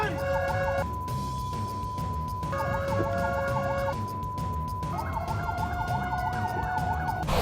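An emergency fire truck siren wails on a busy road, its tone switching between a steady pitch and a rapid warbling yelp, loud and continuous over traffic noise.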